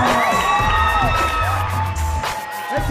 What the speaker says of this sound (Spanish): Un fuerte aplauso para él.